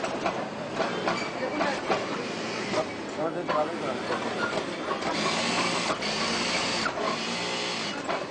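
Sewing machines in a garment factory stitching pockets produce a dense, continuous mechanical chatter and rapid clicking at moderate distance, heard under steady narration by a man.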